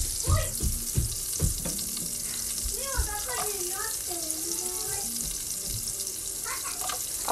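Onion fries in a pan with a continuous bright hiss and crackle, a few sharp pops and clatters near the start, and a voice talking briefly over the sizzle partway through.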